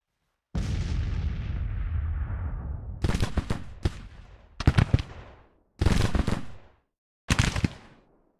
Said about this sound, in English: they run right into some artillery. Into some canister shot